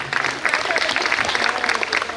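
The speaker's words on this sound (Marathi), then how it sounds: "जोरदार टाळ्या त्यांच्यासाठी." Loud, dense audience applause at a Women's Day fashion show, a vigorous continuous roar of many hands clapping close and full, with a bit of crowd noise underneath.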